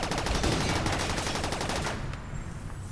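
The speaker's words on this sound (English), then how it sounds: "the turrets will fire on me as soon as it drops" Turrets in RimWorld firing a dense, rapid volley of gunshots that rattles on continuously before cutting off, leaving a quieter tail.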